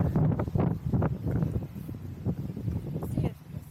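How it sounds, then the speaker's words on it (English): Strong wind blowing steadily at Myrtle Beach, South Carolina, in the aftermath of Hurricane Ian, roaring in gusts against the microphone close up and continuous throughout. "It's pretty windy down here."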